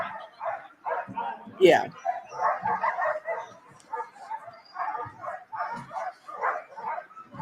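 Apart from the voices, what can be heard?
Iditarod sled dogs barking at ceremonial start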